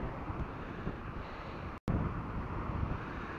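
Strong wind on a beach buffeting a microphone in a constant rough, low rumble, close and loud, with a brief dropout midway before the gusting resumes.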